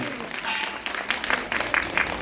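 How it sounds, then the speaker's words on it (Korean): An audience at a piano concert bursts into brief, lively applause, a dense patter of clapping hands swelling in bursts over about two seconds, close and fairly loud. "박수 박수."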